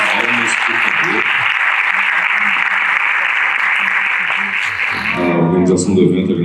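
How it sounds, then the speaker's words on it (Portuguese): Loud, sustained applause fills the room at the close of a round-table panel at a regional education, science and technology forum, with a voice speaking over the clapping at the start and end. "Palmas, por favor."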